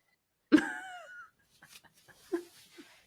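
A single sharp, close cough is followed by brief quiet talk in a podcast-style setting.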